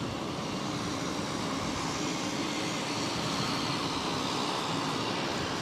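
A United Airlines Airbus A319 airliner bound from Boston to Houston roars steadily and loudly as it passes close by at the airport, a continuous broadband jet rush with no talk over it.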